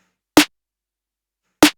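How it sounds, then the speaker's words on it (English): A tight, crisp electronic snare sample with its low end removed hits twice with a clear pause between, each short and dry with no lingering tail. "Now, for my main snare,"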